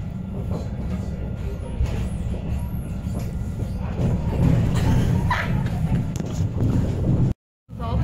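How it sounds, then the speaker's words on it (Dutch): Passenger train riding on rails, heard from inside a carriage as a steady loud rumble with faint rattles and clicks, voices murmuring under it, ending in a brief dropout. "Nu zit je dan meer in de trein."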